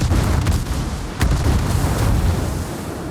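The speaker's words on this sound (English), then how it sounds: "Of course, everybody can see me, so they're shooting at me now." Naval artillery in the World of Warships video game, with shells from enemy ships, including a battleship, landing on the player's ship: heavy booming blasts with deep rumbling tails, one sharp impact standing out near the middle, loud and continuous.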